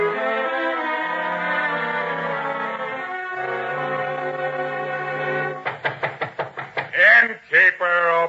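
Knocking on an inn door in an old-time radio drama about Bethlehem, a burst of several sharp raps with a sword handle following sustained music, then two heavier bangs, close and loud.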